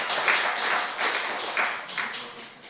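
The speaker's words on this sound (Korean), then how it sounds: "한번 박수로 환영합시다" A church congregation claps in welcome, a moderate burst of applause that swells in waves and then tapers off toward the end.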